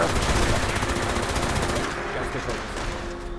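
Rapid automatic gunfire in the video game Fallout, a loud, fast unbroken burst of shots that fades slightly toward the end, with a voice faintly under it.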